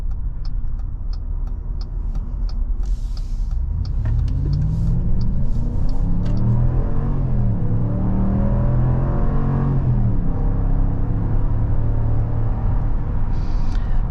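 Cabin drone of a 2022 Jeep Wagoneer's 5.7-liter V8 cruising on a highway, a steady loud rumble with tire and road roar, the engine note rising as it accelerates midway, no talking.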